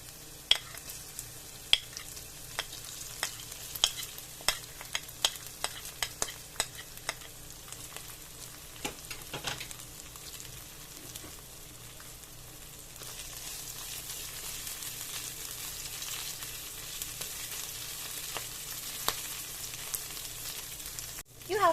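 Chopped garlic and ginger sautéing gently in oil over a low flame for pepper fry chicken: a soft, quiet sizzle broken by scattered light clicks and scrapes of stirring, with no voices.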